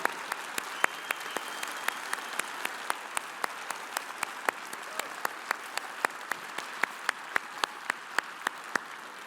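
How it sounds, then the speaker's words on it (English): Audience applause honoring military veterans at a credit union annual meeting, a steady bed of many hands clapping with distinct sharp claps standing out at regular beats, holding strong for the whole stretch. "Let's give them a round of applause."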